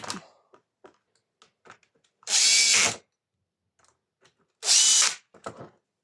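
Power screwdriver driving screws to fasten a catch plate onto a Makita DUH754SZ hedge trimmer: two loud, close bursts of about half a second each, separated by quiet clicks and handling sounds.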